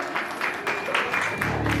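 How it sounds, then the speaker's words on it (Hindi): A crowd applauds and makes noise at a ring ceremony, a continuous spread of clapping with irregular louder claps rising from the mix, and faint voices underneath. "बिना कहे इतनी तालियां, इतना शोर।"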